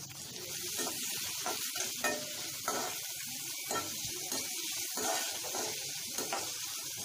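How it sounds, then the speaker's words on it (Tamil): Onion frying in a pan of hot oil for an egg kheema side dish, a continuous sizzle broken by repeated stirring scrapes at an uneven pace, no talking. "ஆனியன் ஆட் பண்ணலாம்."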